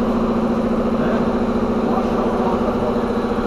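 A VW Gol fitted with a sport exhaust, its first muffler removed and a pipe welded in its place, idles with a steady, throaty, even rumble that stays loud and close throughout, with no talking.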